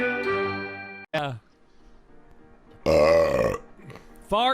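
A voice imitates a fart noise, a buzzy, harmonic blat lasting about a second, followed by a second, louder vocal burst and short bits of talk.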